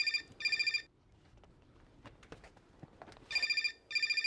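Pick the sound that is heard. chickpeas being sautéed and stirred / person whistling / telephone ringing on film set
telephone ringing on film set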